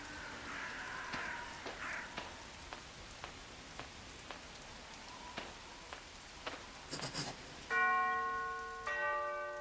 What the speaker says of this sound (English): I'd better ring the bell